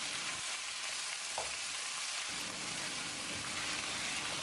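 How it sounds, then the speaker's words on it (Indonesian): Food being stir-fried in oil in a pan makes a constant loud sizzle with faint scraping stir sounds, and no voices are heard. "Kemudian kita tumis-tumis lagi sampai nanti setengah mateng."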